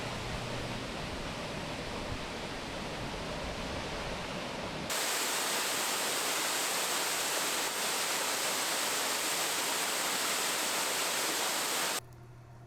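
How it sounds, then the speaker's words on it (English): Merrimack waterfall in the rain on the Olympic Peninsula, a continuous broadband rushing roar, first mid-level, then louder and brighter for several seconds before easing back. "Merrimack was another impressive waterfall and worth a short hike"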